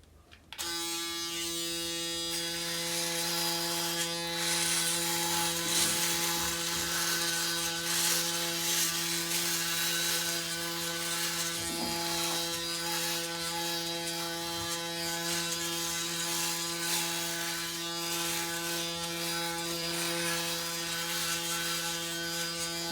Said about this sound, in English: we're going to test out the razor this morning